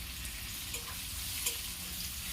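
Mustard seeds and finely chopped ginger frying in hot oil with green chillies and leaves, a soft steady sizzle with faint crackles and a small pop near the middle, no voices.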